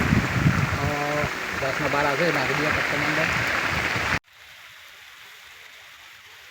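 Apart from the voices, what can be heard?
rain falling on a farm field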